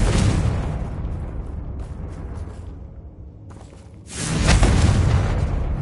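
The fiery Confringo blasting spell in Hogwarts Legacy erupts with a loud, deep explosive boom that rumbles and fades. A second heavy blast bursts in near the end, with no talking.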